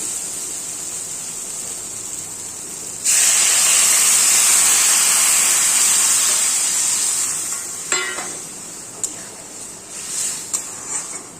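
Water poured into a pan of hot spiced oil for a bitter gourd and fish curry bursts into a loud, sudden hiss that steadily fades, followed by a few sharp clicks and bubbling pops.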